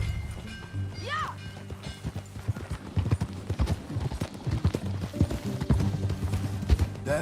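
Horse hooves clip-clop at a steady riding pace in Red Dead Redemption 2, loud and close, with a rhythmic gait over the ground, tack noise and game ambience, and voices talking over the ride.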